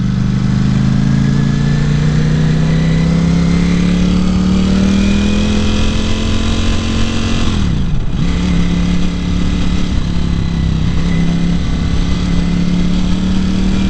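A 2018 Ducati Panigale V4 engine runs loud and close on a test ride, a steady high-revving drone that rises in pitch, drops sharply for a moment as the throttle eases around the middle, then climbs and holds again.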